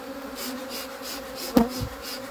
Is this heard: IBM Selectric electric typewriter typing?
no